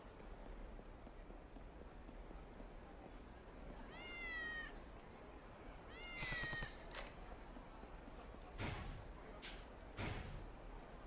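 Cat meowing in the video game Kurohyou: two distinct meows a couple of seconds apart over steady game ambience, followed by several sharp thuds or slams.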